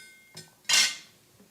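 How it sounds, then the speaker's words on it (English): A kitchen knife comes down on a cutting board while mushrooms are sliced, making two quick, close clinks, the second louder and brighter. "Let's get out the cutting knife. I always like the way this knife sounds. Okay. I'm going to cut up the mushrooms."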